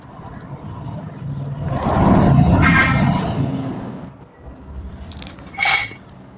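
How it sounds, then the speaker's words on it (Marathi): Green chillies and garlic are pounded in a metal kadhai, heard as a swell of close, dull grinding and knocking followed by a few sharp metallic clinks. "आता ह्या दोघींना कढईमध्ये चेचून घेणार आहे."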